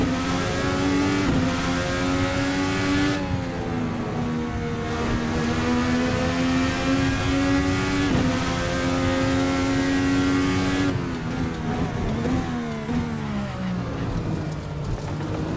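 A racing car engine in a racing sim game drones and shifts pitch continuously, with gear changes and a brief tire screech of a brake lock-up, loud and steady throughout.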